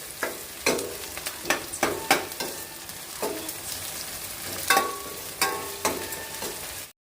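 Chopped green chillies and onions fry in a pan with a steady sizzle, while a spoon stirs and scrapes the pan in repeated sharp strokes at close range.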